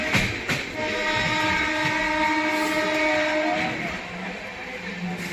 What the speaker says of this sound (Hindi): भाई अपनी स्वराज एक्सप्रेस कुरुक्षेत्र जंक्शन को स्किप कर रही है।